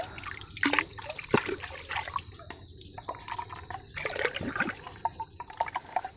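Waste decomposer culture is mixed into water, giving irregular close trickles, splashes and drips with a few louder sloshes over a steady faint hum.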